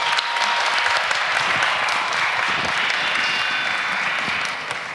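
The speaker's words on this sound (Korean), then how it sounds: "뜨거운 박수 부탁드리겠습니다" Steady applause from a church crowd, dense clapping holding at an even level for several seconds before easing slightly at the end.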